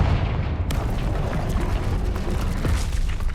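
A Confringo blasting curse detonates in Hogwarts Legacy, a loud, close, sustained rumbling boom with crackling debris that fills the whole moment.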